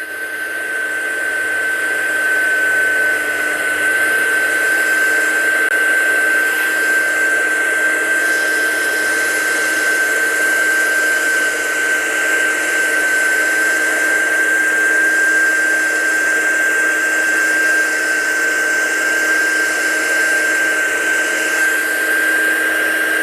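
Embossing heat gun blowing continuously to heat set stamped ink, a steady high-pitched whine over an airy fan rush, close and constant for the full stretch with no talking.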